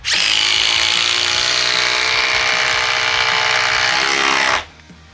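Makita impact driver driving a long Spax screw into wood, a loud close continuous rattling hammer-whir lasting about four and a half seconds before stopping abruptly, with no talking.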